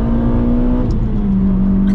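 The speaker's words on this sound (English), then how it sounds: "You can ring the neck of this little engine" The engine of a Renault Clio 197 runs at high revs: a steady, loud, close droning whine that holds its pitch, then dips and settles slightly, with no talk over it.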